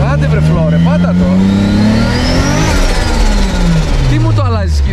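A Toyota Supra MK4 with a 2JZ engine and GT45 turbo revs hard, its loud engine note rising and then falling as the car pulls away, with people talking over it throughout.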